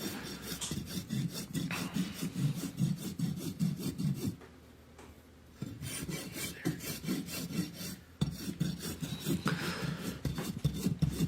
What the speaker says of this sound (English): when I rasp, my rasp stays on the hoof